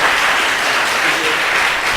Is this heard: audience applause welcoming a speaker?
yes